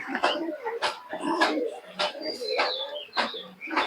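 Giribaz pigeons from Murshidabad coo in soft, repeated bursts close by, mixed with someone talking over them.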